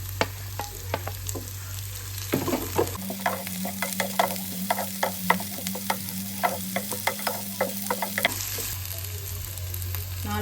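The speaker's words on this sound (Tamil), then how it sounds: "அடுத்து இஞ்சி, பூண்டு, பச்சை மிளகாய் இதெல்லாம் சேர்த்து வதக்கிக்கலாம்." Ginger, garlic and green chillies sauté in a hot pan for a liver pepper fry, giving a steady close sizzle broken by repeated light scrapes and taps of a stirring spoon, with no voices.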